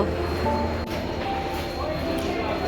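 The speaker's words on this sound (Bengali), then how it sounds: "এটা হচ্ছে দার্জিলিং মেল আছে আর এই ট্রেন" The Darjeeling Mail train stands at a railway station, giving a continuous low rumble with a dull knock partway through and faint voices in the background.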